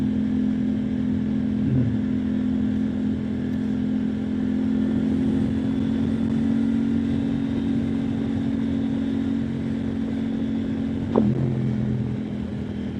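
A steady motorcycle engine drones close by on a debris-strewn Bay Area backroad, with brief whooshes of other bikes passing at about two and eleven seconds, and no voices.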